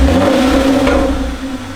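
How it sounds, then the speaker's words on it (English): A Hyundai Genesis Coupe with the 3.8 engine and a Solo Performance exhaust, a loud, close, deep engine rev held briefly and then easing off, with no talking. "Give it a little rev."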